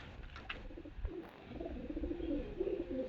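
A pigeon coos softly in a few low, throaty phrases against a faint background hum.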